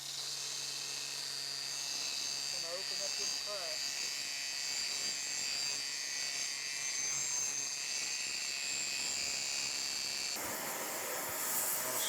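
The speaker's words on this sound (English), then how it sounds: "I'm going to get my grinder. We're going to open up that crack and continue brazing." An angle grinder whines steadily at high pitch while opening a crack in a cast iron pattern maker's vise ahead of brazing, continuous and fairly close, with someone talking faintly underneath.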